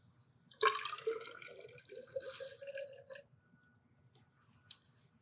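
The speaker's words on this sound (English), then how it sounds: "pour your process fluid in." Process fluid pours into an opened benchtop filtration cell in a short splashing, trickling stream lasting a few seconds, close and quiet, followed by a single faint drip-like tap.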